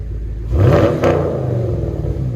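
2012 Chevy Camaro SS with a 6.2L V8 and Flowmaster FlowFX exhaust giving a short deep rev that swells and settles back to a rumbling idle, close by and loud.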